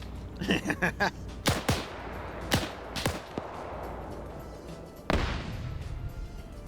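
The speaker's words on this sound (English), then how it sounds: "All right, so we have a lot of grenades going back and forth." Video game gunfire and exploding grenades in a Battle of Kursk multiplayer match: scattered sharp cracks and several loud blasts, some near and some farther off, spread irregularly across the stretch.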